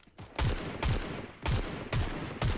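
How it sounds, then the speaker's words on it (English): Gunfire in the Fortnite video game, five sharp shots roughly half a second apart, each with a short punchy tail, fairly loud and with no talking. "I'm glad you're hitting shots because I've missed every single one."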